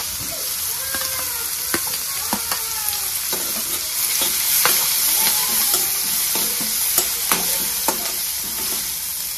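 Green chillies dropped into hot oil already holding cumin seeds, chopped garlic and curry leaves for a Maharashtrian potato bhaji, sizzling loudly and steadily while a spoon clinks and scrapes at intervals.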